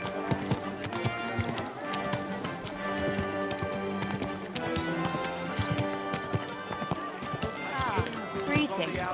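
Horse hooves clip-clopping in the video game Kingdom Come: Deliverance II, a steady rapid rhythm under dense layered game music and ambience, with a brief whinny-like sound near the end.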